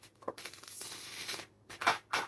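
Tarot cards are shuffled on a small board, giving soft papery riffling and brushing in a sustained stretch with a few short bursts, close and fairly quiet.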